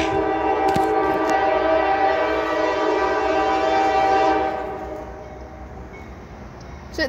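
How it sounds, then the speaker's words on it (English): Three train locomotives back up slowly with a loud, sustained horn-like tone over a rumbling rail noise. The sound fades out after about four seconds, leaving quieter background noise. "It's three locomotives, I think."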